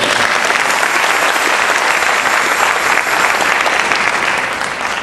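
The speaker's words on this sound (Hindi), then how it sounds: "प्रेम से एक बार ताली बजाते" Steady, dense clapping from a devotional gathering during a Bhagwat katha in Edmonton, applauding the musicians for about five seconds and easing slightly near the end, with no voices standing out.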